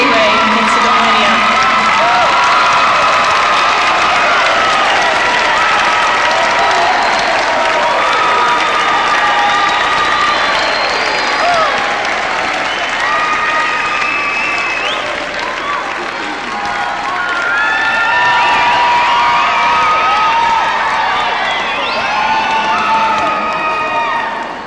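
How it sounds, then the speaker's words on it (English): Graduation audience for the class of 2000 applauds and cheers loudly and continuously for about 25 seconds, with shouts and whoops rising over dense clapping throughout. "If we can now rise and give them, along with ourselves, a round of applause"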